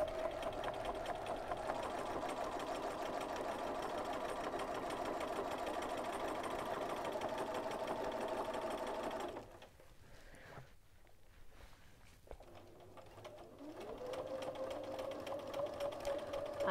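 A sewing machine runs steadily as it stitches fabric around a bear shape. Its close mechanical whir stops for a few seconds with faint handling sounds, then starts up again and picks up speed.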